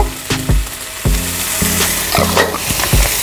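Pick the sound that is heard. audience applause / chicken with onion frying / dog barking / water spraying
chicken with onion frying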